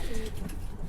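Pigeons softly coo in a loft where young birds are settling, a low continuous murmur over steady background noise.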